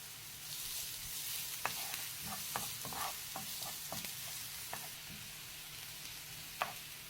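Garlic sizzling in a pan for a Filipino shrimp-in-coconut-milk dish, a soft continuous fry hiss with a scattering of small pops and crackles, faint and even throughout.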